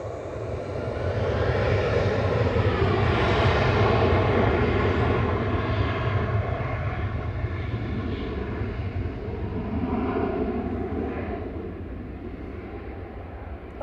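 A Ryanair jet departing Manchester Airport, its engines a loud broadband roar that swells to a peak and then slowly fades as the plane climbs away, heard alone without talk.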